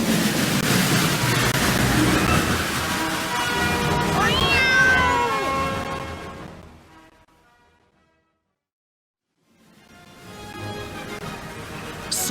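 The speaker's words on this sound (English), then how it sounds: "My cat is in the tree." A cat meows repeatedly from up in a tree, loud wavering cries over a hissing background, fading to silence and then resuming.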